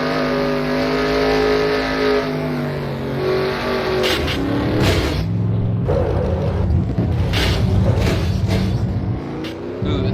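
Engines roar loudly and steadily through a racing video game pileup of pizza delivery trucks, with broad rumbling and bursts of revving and scraping, heard alone without talk.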